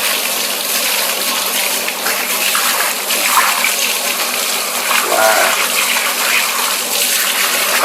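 Continuous loud gush of running water rinsing the drive chain of a Honda CBR650F motorcycle, a steady close spray with small shifts in tone, with no clear voices over it.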